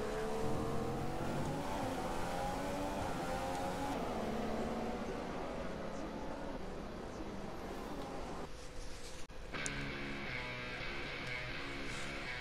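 A Formula 1 race car engine in a racing video game screams at high revs through the final corner toward the checkered flag at the Russian Grand Prix, the pitch dipping and shifting through gears, loud and continuous with no talk.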